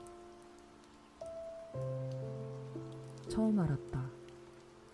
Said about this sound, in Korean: 11월 빗방울이 그렇게 차갑고 뾰족하며 두껍게 뚫린다는 것을